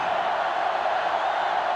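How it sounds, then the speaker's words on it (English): Steady roar of a sellout stadium crowd in NCAA Football 2005, a college football video game with Notre Dame playing Pittsburgh, loud and continuous with no breaks or distinct cheers. "This sellout crowd is really making a difference now"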